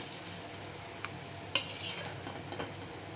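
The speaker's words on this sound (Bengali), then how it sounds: "এখন পটলটা তুলে নিচ্ছি।" Fried pointed gourd lifted from a pan of hot oil for a koi fish curry: a steady sizzle with a sharp metallic clink of the spatula and a few softer scrapes.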